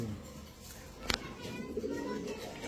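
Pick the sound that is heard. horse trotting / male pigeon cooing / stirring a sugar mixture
male pigeon cooing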